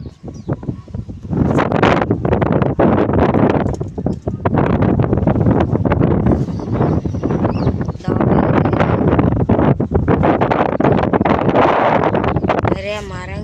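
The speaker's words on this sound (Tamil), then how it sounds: "காற்று செமையாக அடிக்குது" Strong wind gusts roar steadily through many trees at an outdoor spot near a temple festival, a continuous rushing wash with brief fluctuations and a voice speaking beneath it.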